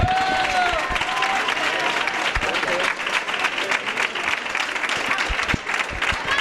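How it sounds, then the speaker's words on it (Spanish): A crowd at the 2017 carnival proclamation in Puerto Serrano breaks into loud, sustained applause, dense clapping with sharp individual claps and some voices and cheers mixed in, holding steady throughout. "Un fuerte aplauso para Diego Nieto."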